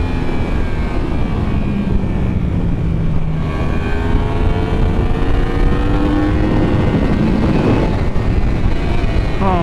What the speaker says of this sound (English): following the maestro at Williams on a superbike